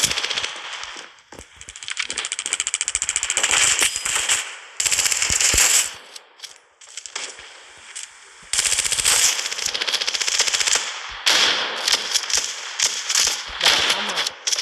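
Gunfire in the Standoff 2 video game, with loud bursts of rapid automatic shots and separate single cracks broken by short pauses. A voice talks briefly between the volleys.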